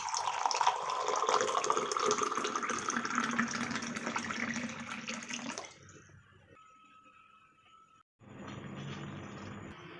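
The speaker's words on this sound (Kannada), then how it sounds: "ಇಲ್ಲೊಂದು ಗ್ಲಾಸು ಬಿಸಿನೀರನ್ನು ತೊಗೋತಾ ಇದ್ದೀನಿ" Hot water running and pouring into a glass for a garlic drink, a steady splashing stream for several seconds before a brief pause and a short second pour.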